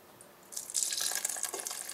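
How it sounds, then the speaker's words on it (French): Boiling water is poured into chocolate cupcake batter in a bowl, a soft splashing trickle that starts after a quiet moment and keeps running steadily to the end. "la dernière étape, on va rajouter l'eau bouillante"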